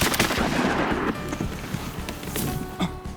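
Rapid volleys of shotgun blasts ring out during an outdoor duck and goose hunt, several overlapping shots close by, then sparser single reports.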